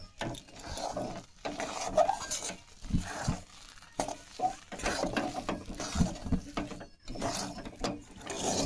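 Rice flour being stirred into boiling milk in a pot to form a dough for modak, with a steady run of scraping, knocking utensil sounds in uneven bursts close by.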